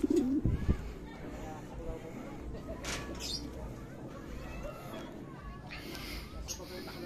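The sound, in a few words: racing pigeons cooing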